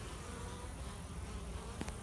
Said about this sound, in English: I keep seeing the worker bees riding on top of the drones.